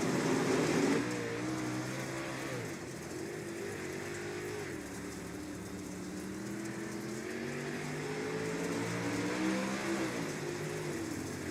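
Dirt track race cars roar around the oval at Lernerville, several engines overlapping in a steady, loud drone with rising and falling revs as the field passes, continuous throughout without talk.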